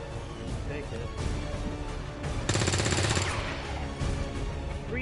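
XCOM 2 gunfire: a dense rattling burst of rapid shots lands mid-clip over steady game noise, with a voice talking throughout.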